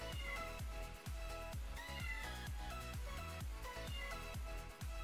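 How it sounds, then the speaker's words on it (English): A pet cat meows in the background while music plays steadily throughout, with repeated low rhythmic thumps and a dense musical texture, the cat's calls blended into the mix rather than standing out clearly. "you can hear my cat meowing in the back."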